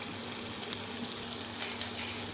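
Chopped cabbage and carrot fry in butter in a hot pan with a steady, dense sizzle that stays loud and close throughout, with no voices.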